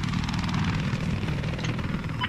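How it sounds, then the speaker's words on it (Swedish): A helicopter in the video game Battlefield 4 thrums with a steady, fairly loud rotor chop and engine whine that runs the full length without speech. "Men det är helikopter där borta."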